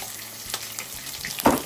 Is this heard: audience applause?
no